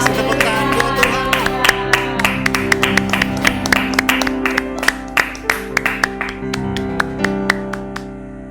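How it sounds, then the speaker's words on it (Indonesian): A church congregation claps in praise to God, a dense run of sharp handclaps over sustained worship music, loud and close throughout. "Kasih tepuk tangan buat Tuhan."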